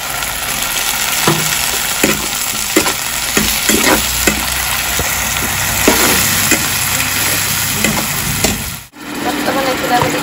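Onions with a little salt frying in hot oil in a pan, a steady close sizzle broken by repeated stirring scrapes, with a brief dip near the end.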